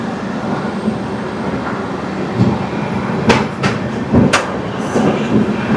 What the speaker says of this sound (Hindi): और ये ट्रेन जम्मू तवी से आ रही है और जा रही है संबलपुर की तरफ।